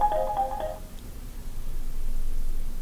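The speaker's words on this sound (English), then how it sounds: "my phone's ringing" A mobile phone ringtone chirps in a quick repeating electronic pattern for under a second, then gives way to steady background hiss and room noise.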